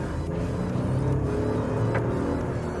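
Citroen C3 Aircross 1.2 litre engine pulling steadily in second gear around 34 km/h, a loud, close, continuous drone from inside the cabin with a slight rise as it accelerates.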